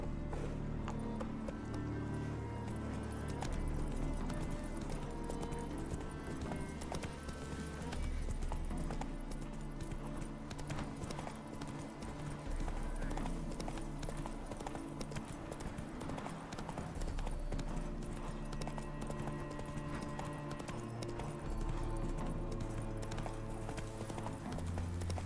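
A horse's hooves clip-clop at a brisk gallop in the video game The Witcher 3: Wild Hunt, a steady rhythmic pounding under game music throughout, with a brief whinny-like touch.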